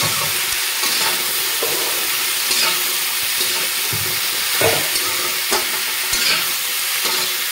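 Drumstick pieces fry in a pan with salt and turmeric, giving a steady sizzle with frequent stirring scrapes and clinks throughout, close and fairly loud.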